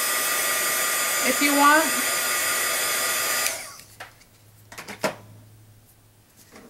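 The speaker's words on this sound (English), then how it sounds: "would be obviously to dry, and you can use heat gun" A heat gun drying metal embellishments gives a loud, steady blowing roar for about three and a half seconds, then cuts off. A few soft handling clicks follow, and a voice speaks briefly near the end.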